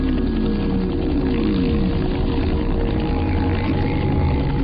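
Two blacked-out military helicopters fly on an urban assault operation over Auckland streets, their rotors and engines making a steady, loud droning roar with a slowly shifting pitch that fills the whole stretch.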